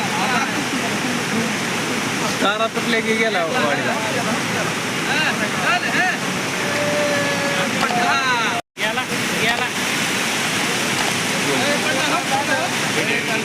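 A flooded river swollen by heavy rain rushes past a village in a dense, continuous roar, with people talking over the water throughout.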